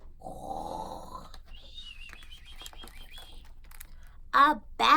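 A storyteller imitates a bear snoring with a low rumbling voiced snore, followed by two short loud snorting bursts near the end.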